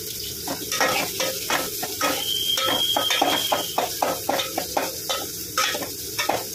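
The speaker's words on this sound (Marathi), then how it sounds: "त्याला छान परतून घेऊया। त्यानंतर थोडीशी मिरची टाकूया हिरवी" Vegetables and green chilies sizzle in a pan as a spoon scrapes and stirs them in quick repeated strokes, making a close crackling sauté with no voices.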